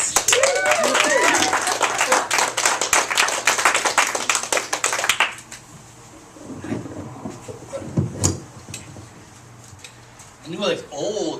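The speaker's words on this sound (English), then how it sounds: "So please clap it up for the very funny Doug X." A live audience claps loudly for a comedian at a nonprofit fundraiser show, dense steady applause for about five seconds that then fades, followed by someone speaking.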